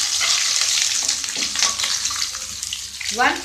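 Bay leaf, ginger, jimbu, methi and black cardamom frying in hot oil give a loud steady sizzle close by, with stirring scrapes throughout and a brief clatter near the end.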